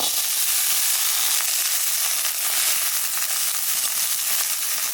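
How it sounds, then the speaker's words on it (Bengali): Onion and garlic frying in a pan after prawns: a steady, loud, dense sizzle with hissing oil that stays constant throughout, with no talking. "এখানে পেঁয়াজ আর রসুন ভাজে নেব।"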